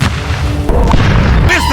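D-30 howitzers fire in war footage, a heavy, loud boom with a rolling low rumble that stays dense and sustained throughout a short span, alone without speech.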